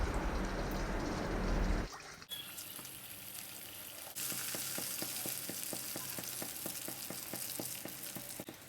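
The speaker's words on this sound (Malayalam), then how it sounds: "ബാക്കിയിരിക്കുന്ന മാവ് കൊണ്ടും നെയ്യപ്പം ചുട്ടെടുക്കാം." Neyyappam batter frying in hot oil, a steady bright sizzle that shifts after a couple of seconds into a quieter bubbling hiss with rhythmic faint ticks, heard alone without talk.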